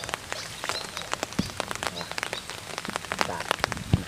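Rain pattering on surfaces near a weir where fish traps are set, dense irregular drips and taps close by, steady throughout with no talking.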